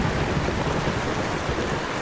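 Heavy cartoon rain and floodwater make a dense, steady rushing wash, loud and close, with no voices over it.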